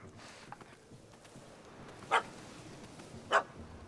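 A puppy gives two short, sharp barks a little over a second apart, standing out against a quiet, low background.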